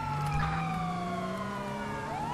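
A police car siren wails steadily in a GTA 5 chase, with a stolen police vehicle fleeing. The long sweeping tone is continuous and fairly loud, with engine noise underneath.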